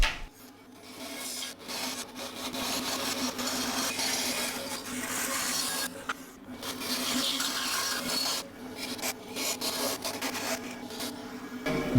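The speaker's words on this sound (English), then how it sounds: "So I'll go ahead and get that cut on the bandsaw." Bandsaw cutting a wooden part for an English shave horse, a continuous rasping, buzzing cut with the blade whine rising and dropping as the wood is fed, moderately loud with short pauses.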